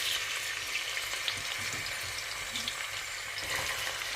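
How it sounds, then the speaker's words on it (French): Onions frying in hot oil for a simple rice dish (riz gras) give off a close, even sizzle that holds steady for a few seconds, with no voices over it. "Nous allons ajouter tout doucement nos oignons."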